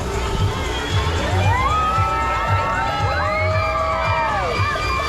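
A crowd at a Maker Faire Orlando 2022 sprint race cheers, whoops and yells loudly and steadily, with children's shouts and high whistling calls rising over the dense roar throughout.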